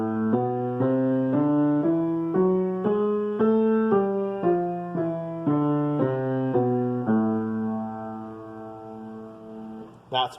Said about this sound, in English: That's melodic minor.